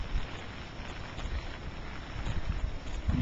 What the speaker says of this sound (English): See, we've still got some wind.